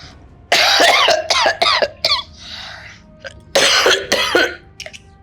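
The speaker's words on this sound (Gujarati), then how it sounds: "કેટલી ઉધરસ આવે છે તમને." A person coughs in several harsh bursts, a cluster of rapid coughs followed by a pause and then another pair, close and loud.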